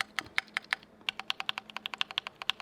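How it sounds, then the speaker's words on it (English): Rapid typing on a wired Keychron Q4 custom mechanical keyboard, enter key included, makes a dense run of crisp, close clacks, steady and fairly quick, with no one talking. "enter definitely sounds different"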